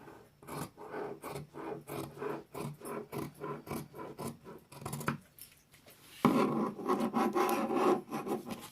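Fabric scissors snip through fabric in a steady, close rhythm of short rasping cuts, pausing briefly before a louder, denser stretch of cutting.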